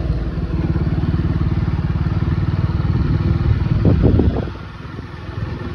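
Motorcycle ridden on a neighborhood road, a close rhythmic engine putter with clattering that swells and then drops away as the bike slows.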